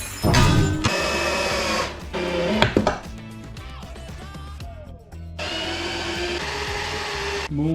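Wooden planks being screwed together while building a home ninja climbing park: loud bursts of a power drill driving screws, with short pauses, clunks and handling noise between runs, close up.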